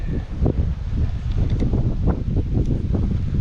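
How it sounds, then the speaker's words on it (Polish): Steady wind blows outdoors and buffets the microphone, making a loud, continuous rumbling roar throughout with no speech. "Wiatr jest."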